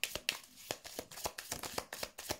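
Tarot cards handled and turned over one by one, a steady run of crisp, close slaps and flicks, quiet and alone, about four per second.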